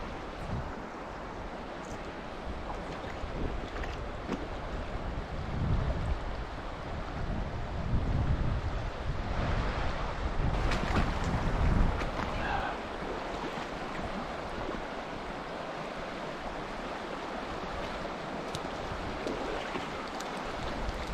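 Wind blowing across open water during fly fishing from a boat, a continuous rushing buffet with gusts and microphone rumble, swelling louder in the middle before settling, no talk.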